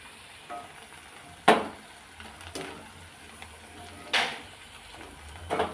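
Mushroom pakodi fry in a pan of oil with a quiet, steady sizzle, broken by a few sharp clinks of a utensil against the pan.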